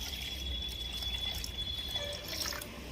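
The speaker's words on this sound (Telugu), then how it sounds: "నీళ్ళు ఇలా పోసుకోవాలి" Quiet trickle of water being poured into a brass bowl, faint and close, with no talking.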